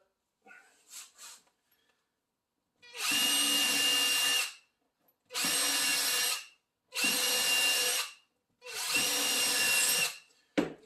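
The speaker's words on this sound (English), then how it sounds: "I'm just drilling 4 holes in here just for the positioning" A power drill whines in four separate bursts of a few seconds each, drilling positioning holes in wood through a jig, close and loud, with brief quiet gaps and a few small knocks before them.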